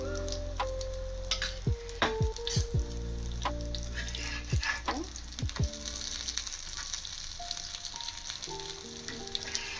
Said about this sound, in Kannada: ಈ ರೀತಿ ಒಂದೊಂದಾಗಿ ತವ ಮೇಲೆ ಇಡಿ. ಇವಾಗ ಸ್ವಲ್ಪ ಆಯಿಲ್ನ ಹಾಕ್ಕೊಳ್ಳಿ ಅದ್ರ ಮೇಲೆ.